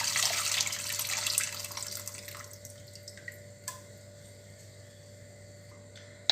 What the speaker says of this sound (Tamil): இப்போ புளி தண்ணி ஊற்றிட்டோம்.